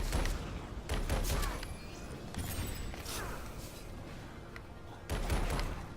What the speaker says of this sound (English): This is an incredibly fast shotgun, but not a huge amount of ammo, so I burn through things quickly.